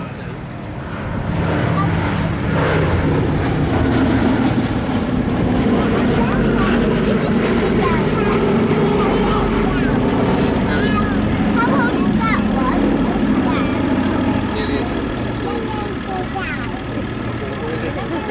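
B-17 Flying Fortress Sally B running in for a solo air display, its piston engines and propellers droning loudly and steadily past the crowd, with a commentator talking over the roar throughout.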